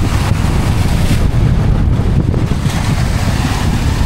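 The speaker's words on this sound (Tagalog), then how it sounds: "lain na po ang hangin" Strong wind at sea blasting across the microphone on a boat in a bay ahead of a typhoon, a loud constant roaring rumble with surging gusts and water noise, no talking.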